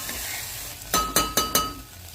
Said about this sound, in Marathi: आता त्यानंतर आपण त्यात मटार आणि 1 छोटा बटाटा